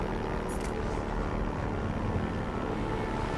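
An airplane flying in Far Cry 4, a steady droning propeller engine hum, fairly close and continuous, with broadband rushing noise and no talking.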